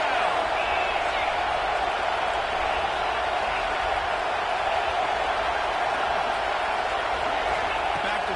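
Ohio State Buckeyes football crowd at a Michigan–Ohio State game roaring on third down, a dense, steady stadium wash of cheering that holds loud and unbroken throughout.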